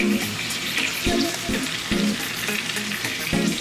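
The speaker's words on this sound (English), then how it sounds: "What I'm doing here is just tipping it up a little bit and just kind of getting some of the sides of the steak." A steak sizzles loudly and steadily in hot grease in a pan, with a few soft scrapes and knocks as it is tipped onto its edges, and no voices.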